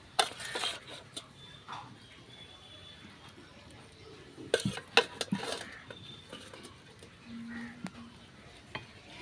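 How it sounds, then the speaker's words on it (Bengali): Tilapia pieces dropped one by one into a boiling curry, giving faint intermittent plops, soft bubbling and a few utensil clinks under a woman's quiet speech. "আমি এক এক করে মাছগুলোর মধ্যে দিয়ে দিচ্ছি ঝোলের মধ্যে"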